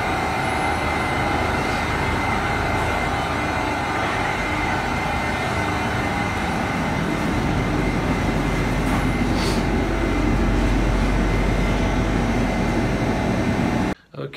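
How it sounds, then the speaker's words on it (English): A train on a Bulgarian railway heading toward Sofia, a steady broadband rumble and rolling roar that holds for the full length, fairly loud and close, with no talk over it and an abrupt cutoff at the end. "So I'm waiting for another train."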